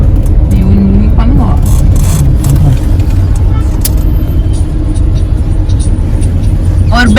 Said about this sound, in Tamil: செம்ம டிராஃபிக்கா இருக்கு.